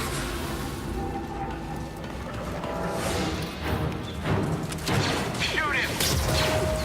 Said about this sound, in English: You just wanted to turn that cutter on.